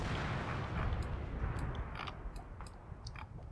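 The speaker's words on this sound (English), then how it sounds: "The flak wagon comes online, starts shooting up the church." A flak wagon firing on a church in the Combat Mission wargame: a steady barrage of rapid booming cannon shots and impacts, loud and rumbling throughout, with sharp crackling hits scattered over the dense low roar.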